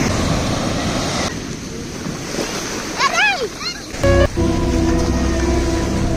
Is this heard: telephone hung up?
no